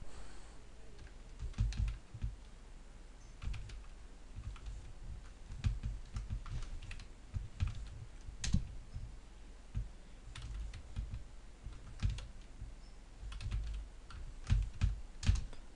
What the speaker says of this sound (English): So here you need to type in the tag.